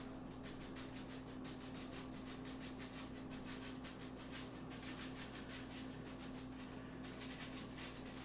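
Dry Kansas City Sweet rub being worked onto baby back ribs by hand, a steady close scratchy rubbing that goes on without pause over a constant low hum.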